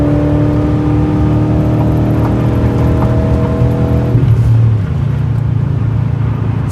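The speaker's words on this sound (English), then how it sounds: "I floored it." A car engine with an upgraded pulley revs hard under full throttle, a loud, steady, close droning whine that climbs and then drops in pitch as it shifts, with no talk.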